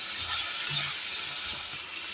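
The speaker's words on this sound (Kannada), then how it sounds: "ಈರುಳ್ಳಿಲೇ ಫ್ರೈ ಮಾಡ್ಕೋಬೇಕು ಚೆನ್ನಾಗಿ ಹಾಗಲಕಾಯಿ." Bitter gourd and onion frying in oil in a pan, giving a steady soft sizzle with light stirring scrapes, close and moderately quiet, with no talking.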